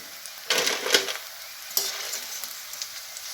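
Crisp fried okra (bhindi) sizzles in a pan, with two bright bursts of frying hiss as pieces are lifted and stirred, and a quieter crackle between them; no one talks.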